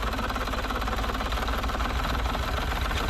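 A Yamaha 60 hp two-stroke outboard motor cranks on its starter during winterizing, a steady loud rhythmic churning drone that runs unbroken and close for the whole stretch, with no talking.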